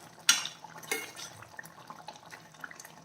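Water is added to a simmering okra (ladies finger) curry with cashews, heard as a sharp splash and a second pour, then soft drips and bubbling, quiet and close with no talking.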